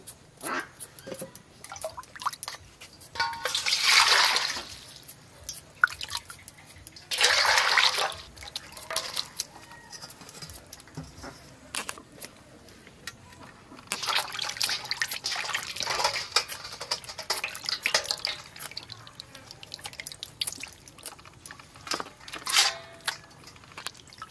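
Cut vegetables for a village potato and mutton-fat curry are rinsed in water, with intermittent splashing, sloshing and dripping bursts, close and fairly quiet, separated by softer handling sounds and no speech.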